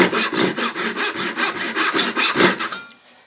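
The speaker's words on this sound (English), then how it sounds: "With a fine-tooth saw, following that shape left" A fine-tooth hand saw cuts across a wooden screwdriver handle in steady, rhythmic back-and-forth rasping strokes, close and clear, ending in quiet.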